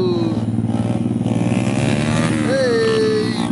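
Honda Grom motorcycles idle and rev in a parking lot stunt session. A close, buzzing small engine note wavers, then climbs sharply in a quick rev near the end.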